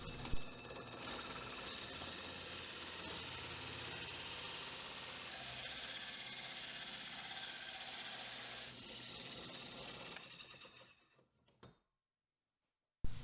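A 3.5 inch hole saw grinds slowly and steadily through material, a continuous loud rasping drone for about ten seconds before cutting off into near silence with a couple of brief knocks.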